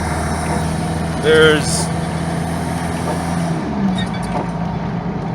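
Chevrolet S10 with a 2.2 litre turbo diesel pulling at half throttle while boosting, a steady droning engine with a brief whistle-like rise, heard from inside under someone talking.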